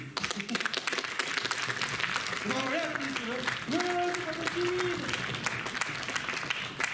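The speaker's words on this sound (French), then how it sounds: "mais applaudissez-le, allez!" A convention crowd applauds a cosplayer in a costume contest, dense clapping running continuously while a voice speaks over it midway.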